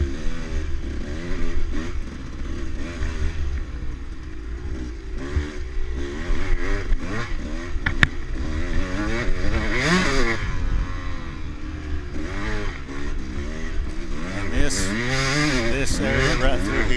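A dirt bike in a hare scramble race, its engine droning and revving up and down close by, with clattering and scraping from rough ground as it rides through the woods.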